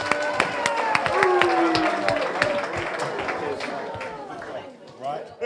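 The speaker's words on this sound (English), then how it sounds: "So I think a round of applause for Willow-Jean." Debate audience at the 2023 Northland electorate debate breaking into a round of applause, steady dense clapping with a crowd murmur and chatter throughout, tapering slightly toward the end.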